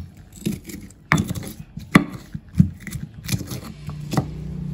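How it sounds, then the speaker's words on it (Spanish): Garlic cloves crushed by hand to season fried fish, a handful of close, dull thuds and knocks in an irregular rhythm over a quiet kitchen background. "Voy a usar unos dientes de ajo, que esto los voy a machacar, bien machacaditos."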